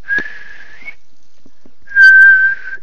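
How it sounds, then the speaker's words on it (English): A person whistles two sustained steady notes, the first sliding slightly upward at its end, separated by a second of near silence; close and clear with no talk. "Oh, I did it. I whistled."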